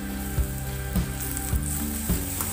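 Sliced onion and potato sauté in a pan with a continuous close sizzle, punctuated by four evenly spaced thumps of stirring against the pan.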